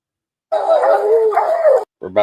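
A dog lets out a loud, close, drawn-out howling bark lasting over a second at a bear, followed by a short, sharp second yelp.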